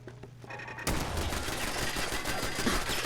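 Gunfire in the Fallout 4 video game: after a quieter start, a dense burst of rapid automatic shots erupts and keeps rattling loudly without pause through the rest of the clip.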